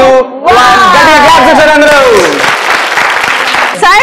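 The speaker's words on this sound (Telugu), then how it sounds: "గట్టిగా క్లాప్స్ చేయండి అందరూ" Studio audience of a Telugu TV game show clapping loudly and steadily for several seconds, with a presenter talking excitedly over the applause.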